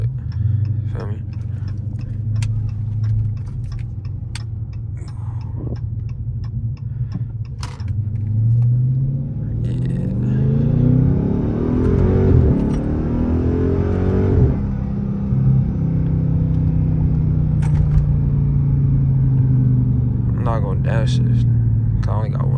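A Dodge Challenger Scat Pack 392 Widebody's V8 rumbles loudly up close, revving and rising in pitch, then dropping as it downshifts, with a ticking clatter and a brief spoken word from the driver.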